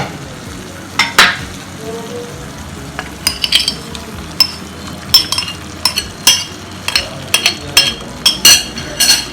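Half-cooked prawns are stirred into a sizzling masala in a pan for Kerala prawn roast, steady frying hiss broken by repeated scraping strokes and sharp clinks of a utensil against the pan.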